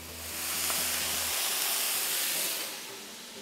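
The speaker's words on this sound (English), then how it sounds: "And then I'm gonna steam this and dome this." Water steams and hisses under a dome on a Pit Boss Sierra griddle cooking a pizza cheeseburger, a broad rushing hiss that swells, holds for about two seconds and then fades, heard close with no talk.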